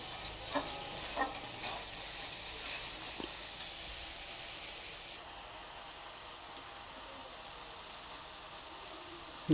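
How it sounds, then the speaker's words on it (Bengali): Spice masala for a rohu fish curry is stirred and fried over high heat, with a soft, steady sizzle and a few utensil scrapes and clinks near the start, fairly quiet overall. "বারবার করে মশলাটাকে খুব সুন্দর করে টান নিয়ে নিয়ে নাড়াচাড়া করে নিচ্ছি"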